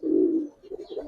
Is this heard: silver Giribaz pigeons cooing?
yes